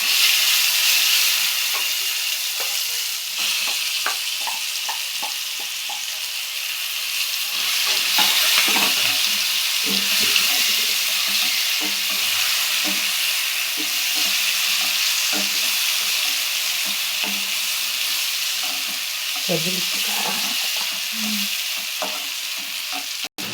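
Onion paste sautés and fries in hot oil in a pan, with a continuous loud sizzle and hiss broken by frequent stirring scrapes, and no talk.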